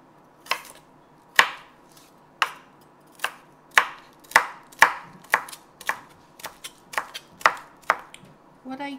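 Knife chopping celery stalks into small pieces on a cutting board, about fifteen sharp, evenly spaced cuts close by with no talking.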